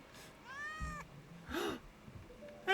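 A cat in the video game Indiana Jones and The Great Circle meows twice in clear, separate calls, the second rising and falling, with a quick short call cut off at the end, all over a quiet low ambient hum.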